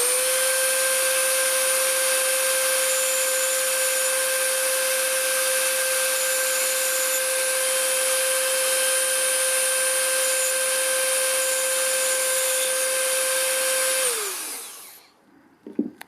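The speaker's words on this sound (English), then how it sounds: "So I'm going to use this grinder." Small grinder spinning while shaping a tiny needle for a carp rig, a steady high-pitched motor whine holding level, then winding down to a stop near the end, close and without talk.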